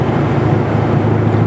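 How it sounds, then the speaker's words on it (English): Deep bass rumble of a twin-turbo Corvette C6 Z06 engine cruising in fourth gear at about 35-40 mph, a loud, steady low drone heard from inside the car without pauses. "That's a pretty loud rumble."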